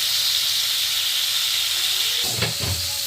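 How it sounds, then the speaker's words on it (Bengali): Boiled cauliflower frying in hot oil with turmeric and salt in a home kitchen, a steady sizzling hiss throughout, with a couple of brief spoon or pan knocks near the end and no talking. "এবার হলুদ লবণ দিয়ে সামান্য একটু ভেজে নিচ্ছি।"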